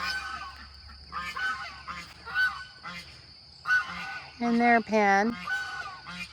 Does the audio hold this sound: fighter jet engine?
no